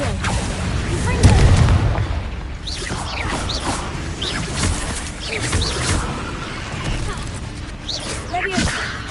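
The Confringo fire spell bursts in Hogwarts Legacy on PS5 with a loud booming explosion near the start, followed by repeated whooshing spell blasts and crackles over game music and ambience.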